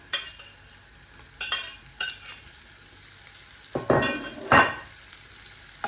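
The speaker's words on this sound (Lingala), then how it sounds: "Now I'm gonna add my sausage." Sausage is added to a pan of cooked onion, giving a soft sizzle under several sharp scraping and clattering bursts as it is stirred, the loudest two coming close together near the end.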